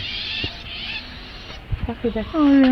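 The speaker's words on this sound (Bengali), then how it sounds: "পাখি ডাকতেছে" Birds call in a leafy vegetable garden, short hoots at first and then a louder run of rising calls near the end, over faint background hiss.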